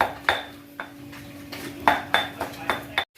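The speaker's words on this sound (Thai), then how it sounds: "เดี๋ยวให้ลุงเบิ้ม โขก เครื่องแกงก่อนเนาะ" A Thai cook pounds curry paste of kaffir lime leaves, fingerroot and fresh green peppercorns in a mortar, giving several sharp, clinking thuds at an uneven pace, close by, over a steady low hum.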